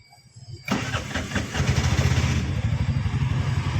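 An auto rickshaw engine, just repaired after a starter problem, cranks and fires with a sudden loud catch, then settles into a steady, throbbing idle close by.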